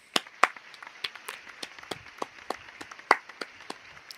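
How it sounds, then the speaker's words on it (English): Scattered claps ring out one at a time at an uneven pace, a sparse and fairly faint round of applause from a few hands. "come on, round of applause"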